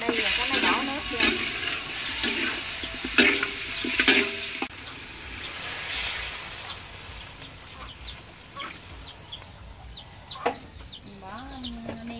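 Water goes into a pan of chicken stir-fried with fresh pickled shallots, with sizzling and bubbling that gradually settles, along with faint background noises and brief scattered sounds.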